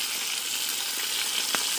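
Lechon frying in a pan, a steady crackling sizzle close by with a brief louder pop near the end and no talk.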